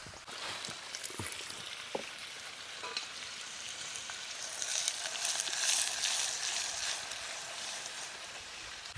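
Ghee poured into a pan hisses and sizzles steadily, with faint scattered clinks, cooking outdoors in a forest beneath a waterfall, the sizzle swelling briefly midway and staying close and moderate.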